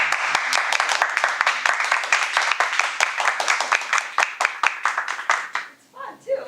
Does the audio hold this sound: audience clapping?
yes